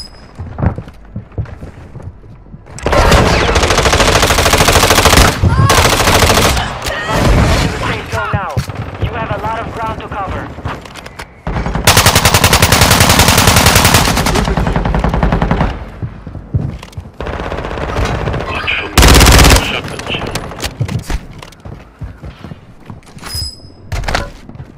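Gunfire in Call of Duty Warzone, including a 9mm SMG: loud sustained bursts of automatic fire in long stretches, broken by pauses, shorter bursts and heavy thuds, close and dominant.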